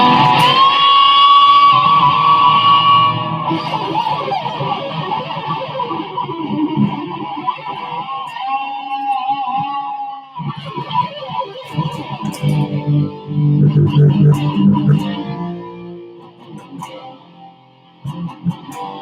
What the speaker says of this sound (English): I love the sound of an electric 6-string guitar with some juicy distortion and a touch of echo